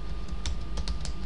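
Clicking keystrokes on a computer keyboard while writing PHP code, a handful of quick, irregular taps close to the microphone with no talking.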